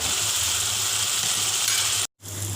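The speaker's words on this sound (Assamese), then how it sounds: "এখিনি দি মই ভালদৰে মিক্স কৰি লম আৰু 1 মিনিট মান মই ভাজিম" Spices with onion and tomato sizzle steadily in a pan, a continuous close frying hiss that cuts out briefly near the end.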